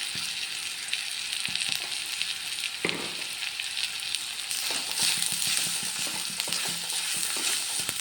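Onion mixture with turmeric and chili powder sizzling steadily in a hot pan, punctuated by scraping stirs of a utensil and occasional louder spatters.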